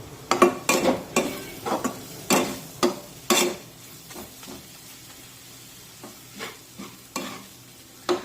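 Spices and onions sautéing in hot oil in a pan, a steady sizzle broken by repeated scraping strokes of a spoon, loud and close, quickening early and then spacing out, with no talking.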